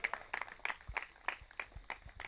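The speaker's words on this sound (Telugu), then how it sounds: "కొట్టండి చప్పట్లు గట్టిగా, ఇంకా గట్టిగా." A church congregation claps in a steady, rhythmic beat during a Telugu sermon, with the sharp, fairly loud claps arriving roughly three times a second and no talk over them.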